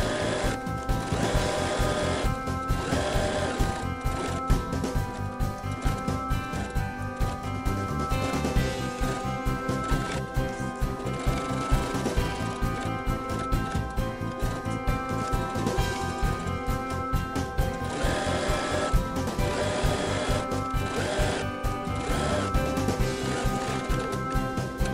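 A sewing machine stitches a tote bag seam and back tacks, giving a steady, dense mechanical whir that runs close and continuous with no pauses and no talk over it.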